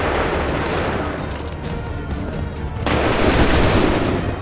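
Musket volleys crack in the Assassin's Creed 3 battle, a dense, loud, continuous fusillade of overlapping shots that grows heavier and booms harder in the second half, with no voices over it.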